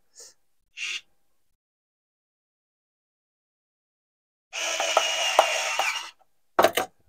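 A HOTO cordless screwdriver briefly whirs and ratchets while backing a screw out of a plastic part, sounding in short bursts: two tiny blips, a longer buzzing run of about a second and a half, then a quick final rattle, amid silence.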